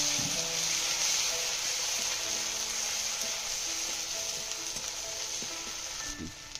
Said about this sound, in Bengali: আদা কাঁচা লঙ্কা ভাজা হয়ে গেছে